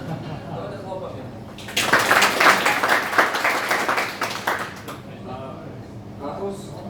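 An audience claps at a business talk in a burst that starts abruptly, peaks, then thins out over a few seconds, set between stretches of a speaker's voice.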